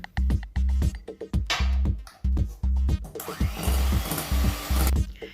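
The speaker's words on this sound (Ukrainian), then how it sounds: "В нього додаємо 20 г вершкового крему і збиваємо добре у блендері." A blender whirs in short bursts, whipping cream cheese with cream, starting and stopping repeatedly, then runs longer with a harsher, fuller whine near the end.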